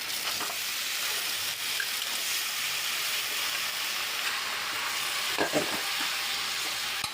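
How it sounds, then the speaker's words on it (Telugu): Onions, chillies and curry leaves fry in a pan with a loud, steady sizzle. A few brief stirring scrapes sound over the frying, and nobody talks. "కొంచెం వేగింది కదా, కరివేపాకు వేస్తాం"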